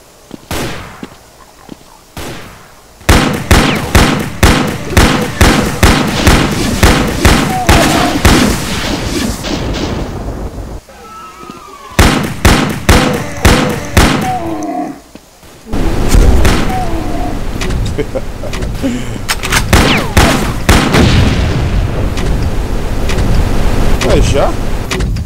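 Rapid bursts of gunfire and heavy booming blasts from the DOOM remake video game come in loud volleys separated by brief lulls, with a voice talking intermittently beneath the action.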